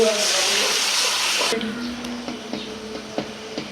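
A little water is poured into a pan of frying ginger, garlic and cumin paste with turmeric for a snakehead fish curry. A loud, steady rush of pouring and sizzling lasts about a second and a half, then drops to quiet ticks and faint clinks.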